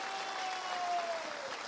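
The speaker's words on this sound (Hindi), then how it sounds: "मैं चाहता हूं एक जोरदार ताली हमारे गुरुदेव मिस्टर शिव कुमार सर के लिए होना चाह" An audience at a motivational talk breaks into steady applause, a dense wash of clapping from many hands, fairly faint and distant, holding evenly without voices over it.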